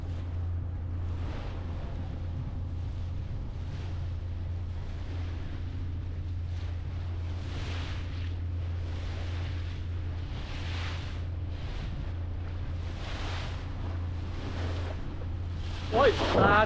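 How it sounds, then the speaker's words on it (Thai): Strong sea waves heard from a public ferry crossing to Malé in the Maldives, a constant rumbling engine and wind wash with repeated surges of water rolling past, a louder splash at the end. "โอ้โหคลื่นตรงนี้แรงมาก"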